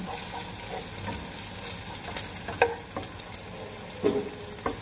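Guanciale frying in a pan for carbonara, a continuous soft sizzle with a few sharp scrapes and knocks from stirring, close and fairly quiet, no talking.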